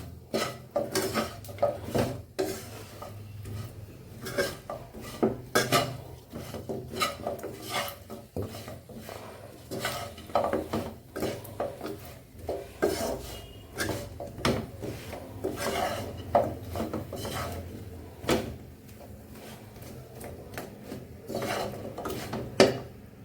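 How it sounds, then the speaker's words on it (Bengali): Fried nimki snacks coated in jaggery are stirred and tossed in a pan off the heat. A spoon scrapes and knocks against the pan in an irregular rhythm of close, gritty rustles and clinks. "চুলাটা অফ করে দিয়ে আমি এইভাবে নাড়াচাড়া করতে থাকবো, যাতে করে গুড়টা গায়ের মধ্যে শুকিয়ে যাবে"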